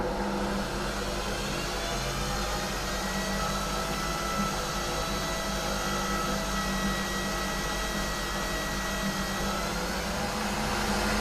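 An electric hand mixer runs steadily at low speed, mixing chilled homemade peach ice cream base in a bowl, giving a constant close motor whir that holds level throughout with no speech.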